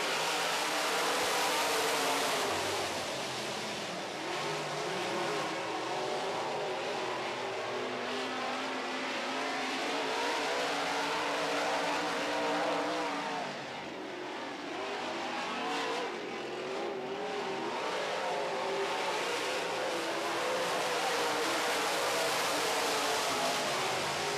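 Modified race cars on an oval track in an eight-lap heat with four cars, engines roaring loud and steady throughout, rising and falling slightly as the cars pass, with no voices.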